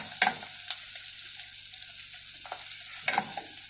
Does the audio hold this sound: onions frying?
yes